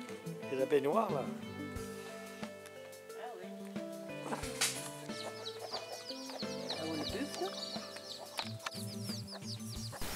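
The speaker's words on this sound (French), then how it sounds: "Les poules et poussins sont heureux ici." Hens and chicks roam and cluck outdoors on a rural homestead near Bac Ha in Vietnam, with scattered clucks and chick peeps over music and a voice talking throughout.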